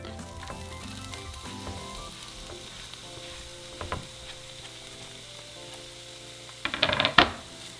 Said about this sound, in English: once our oil is hot, we're going to throw in our onion